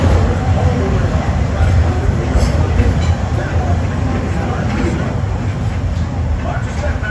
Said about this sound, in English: As we pull into the station, please remain seated until the train comes to a full and complete stop